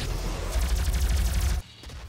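Plasma gun from the video game DOOM firing a rapid, pulsing stream of loud shots that builds midway and stops abruptly near the end, leaving a brief quieter tail.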